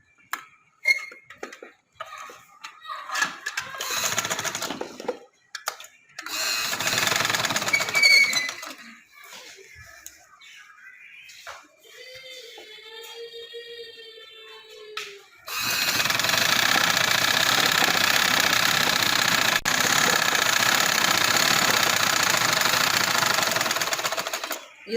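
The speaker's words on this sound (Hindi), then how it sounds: "ये सिलाई लगा रही हूँ।" A sewing machine runs a seam on summer trouser fabric in short bursts of rapid mechanical stitching, then in one long, steady, loud run near the end, with someone speaking briefly between the bursts.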